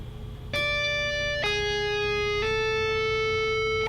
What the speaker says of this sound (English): So the first 3 notes of this chunk sounds like this.